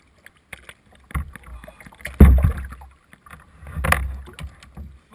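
Kayak paddle strokes splashing on a lake, a few irregular watery swishes rising and falling up close, with breathy noise between strokes and no clear talk.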